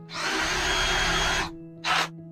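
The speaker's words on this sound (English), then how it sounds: "First, I'm going to find the middle. And then just countersink it." A power drill countersinks a hole in wood for a planter box, a loud close whirring burst of over a second followed by a short second spin.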